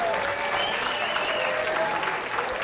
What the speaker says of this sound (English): Let's have one last big round of applause for all those inducted here tonight.